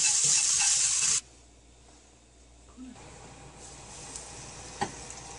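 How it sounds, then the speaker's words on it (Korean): White fish frying in a hot oiled pan, a loud bright sizzle for the first second that then cuts to a quiet low crackle with occasional soft pops and clinks. "팬에 기름을 두르고요. 달군 다음에 전처리 해놓은 여기 생선을 지져 보도록 하겠습니다."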